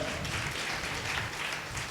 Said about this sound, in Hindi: बोलेंगे ताली बजा के स्तुति करें प्रभु की